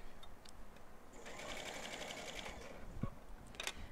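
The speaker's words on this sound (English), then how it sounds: "All right, so I'm just going to sew right along here." A sewing machine quietly stitches a fluffy throw blanket, a soft rapid mechanical whir running through the middle of the clip, with small handling clicks and taps around it.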